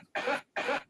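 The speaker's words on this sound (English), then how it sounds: "There's the cough." Two short, close coughs in quick succession after a bong hit, fairly quiet, with brief silence between them.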